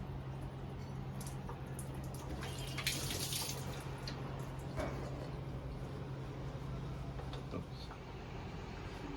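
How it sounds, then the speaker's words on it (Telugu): Water flows from the inlet of an LG washing machine that shows an IE error, making a faint, steady hiss over a low continuous hum with a few soft splashy bursts. "ఇప్పుడు మనం చూస్తే చూడండి ఎలా వస్తుంది వాటర్"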